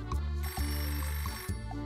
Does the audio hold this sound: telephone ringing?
yes